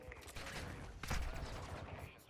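Gunfire in the DMZ video game comes as a quick burst of shots, with a sharper report near the middle, over a busy background of game noise and no clear speech.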